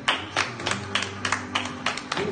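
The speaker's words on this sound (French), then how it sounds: "Un tonnerre d'applaudissements s'il vous plaît pour elle." Rhythmic group clapping at a French nursing-school event, a steady beat of about two claps per second, moderately close, with no speech over it.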